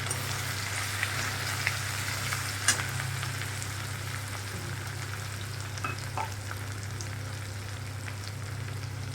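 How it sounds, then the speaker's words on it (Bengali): Ginger paste frying with spices in a pan for a vegetarian dish, giving a steady close sizzle throughout with a low hum underneath and a few faint clicks, with no voices. "আদা বাটাটা দিয়ে দিলাম একটু মশলাটা ভেজে নিই"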